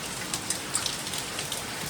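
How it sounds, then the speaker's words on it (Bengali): Heavy rain pours down steadily in a hot summer setting, a dense, even hiss of water with scattered louder drops and splashes hitting nearby surfaces throughout. "দেখেছেন খুব জোরে হচ্ছে বৃষ্টিটা"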